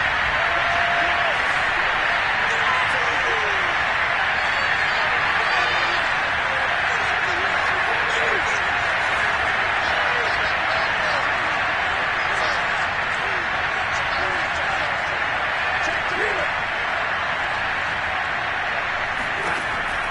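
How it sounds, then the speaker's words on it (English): Stadium crowd applause in the football video game Madden 22 rises as a continuous, even wash of clapping and cheering that holds steady throughout. "How about some applause for the defense there?"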